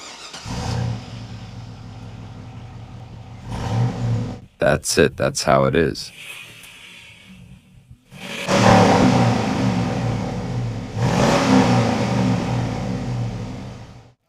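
A stock motorhome's engine cranks and starts, then revs in short bursts before settling back to idle and revving again, close and fairly loud, with someone talking in between.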